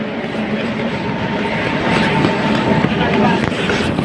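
A superfast express train arrives at a busy station, a loud, continuous rumble with rail clatter that swells toward the end, under people talking nearby.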